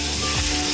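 Pork sizzling in a pan with softened tomatoes, a steady close frying hiss, short and continuous with no voices.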